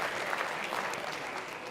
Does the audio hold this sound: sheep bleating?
no